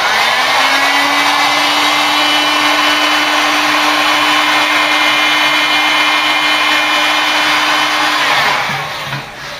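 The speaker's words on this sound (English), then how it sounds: "Get the heat gun on." A heat gun blows with a loud, steady hiss and hum for about nine seconds during a Ford Cortina Mk3 restoration, then fades as it is switched off.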